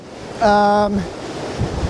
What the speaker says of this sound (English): You'll see there's some pretty huge waves hitting all along the Kadena region, or the Kadena seawall